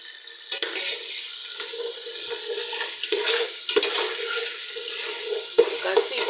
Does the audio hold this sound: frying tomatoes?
yes